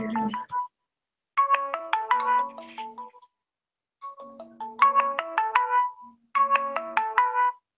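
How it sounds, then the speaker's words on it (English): Phone ringtone from an incoming Hangouts call, repeated bursts of bright electronic melody separated by short silences, clear and fairly loud with no voices. "my phone was ringing, but it was ringing on Hangouts"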